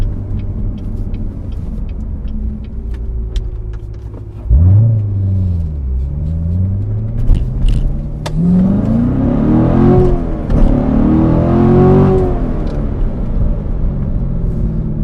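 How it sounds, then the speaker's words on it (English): A C7 Corvette sports car engine revs and climbs through the gears, its pitch rising and falling over a steady road rumble, loud and close. "this car can accelerate pretty well"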